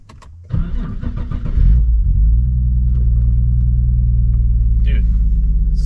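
Heard from inside the cabin, a car engine cranks and catches, surging briefly before settling into a steady, low, droning idle rumble that fills the interior.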